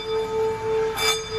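A small bronze Nepalese bell, about 12.5 cm across and weighing roughly 400 g, rings after a light tap, giving a sustained metallic tone with a faint shimmer of overtones, and a brief brushing noise partway through.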